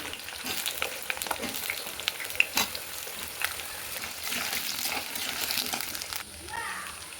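Potatoes, carrots and onion fry in a pan, giving a steady close sizzle broken by irregular stirring scrapes and clacks, with faint background voices now and then.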